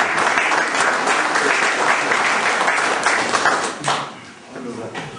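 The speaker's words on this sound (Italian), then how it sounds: "che accogliamo con un forte applauso" A seminar audience on alternative energy gives a loud round of clapping to welcome the arriving president, dense and sustained before thinning out and fading near the end.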